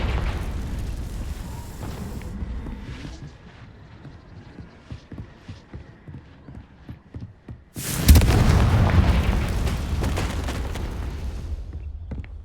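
Confringo spell explosions in Hogwarts Legacy, heavy booms with a rumbling tail, then a run of rapid crackling bursts before a second large blast erupts and roars on.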